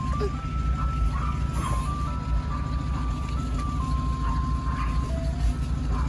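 A neighborhood ice cream truck plays its tinkling melody loud and clear over a constant low engine idle, the tune running on without a break.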